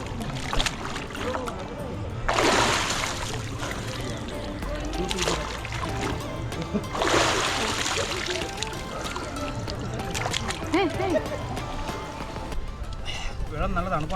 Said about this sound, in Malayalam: ഞാനപ്പോൾ ഒന്ന് മുങ്ങി കുളിച്ചിട്ട് വരാം.